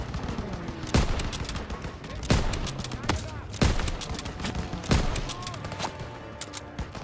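Rapid gunfire and flak in the World War II shooter Call of Duty WW2, with repeated sharp shots and heavier bursts over a dense battlefield din, and a player's voice occasionally talking.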